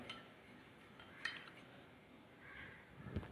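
A spoon clinks and scrapes faintly against a container while a homemade cleaning mixture is stirred, a few light metallic taps over a soft background with no speech.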